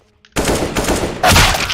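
A video game gun fires loudly after a brief quiet start. Two heavy, close bursts of shots land roughly a second apart, the second one louder.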